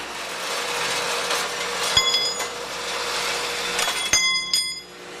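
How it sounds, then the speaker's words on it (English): Threaded all-thread rod being cut with a power tool, a continuous bright whine and grinding hiss with brief clicks and tonal squeals near the end, close and fairly loud, no voices. "now we're just set up to cut our all thread"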